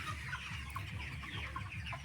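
Broiler chickens, 26 days old, cluck steadily and overlap in a crowded poultry farm shed, forming a continuous close murmur of many birds with no voices over it.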